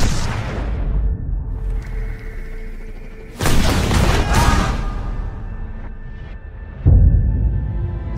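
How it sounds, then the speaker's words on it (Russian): Two sharp, loud blasts of gunfire a few seconds apart ring out over a low rumbling background, in the trailer for a war film about Podolsk military cadets. "Выстрел!"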